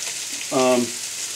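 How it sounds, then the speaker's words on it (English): A steady sizzling hiss of onions frying in butter in a pan, with a short tonal squeak rising over it midway. "you can hear that nice sizzle"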